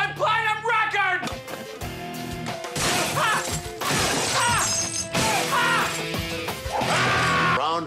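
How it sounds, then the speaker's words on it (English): A platinum record is smashed with loud shattering crashes and repeated whacks, busy and close, amid shouting voices and a brief high squawk. "You smashed one of my platinum records!"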